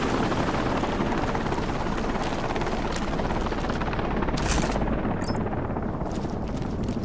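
A helicopter lifts off in Sniper: Ghost Warrior Contracts 2, a loud, constant rotor roar that stays close and steady throughout without a voice.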